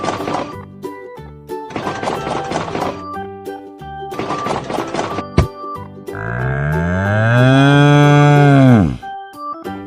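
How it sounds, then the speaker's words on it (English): A cow moos once, long and loud, up close over a background of bright children's game music with a few thumps and knocks before it. "Cow."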